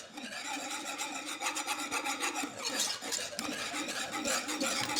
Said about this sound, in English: as you're stirring it